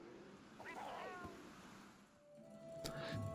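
A Grimalkyne, the cat-like creature in Monster Hunter World, gives a drawn-out meow over game ambience that sounds like sea and waves, followed by a short interface tone.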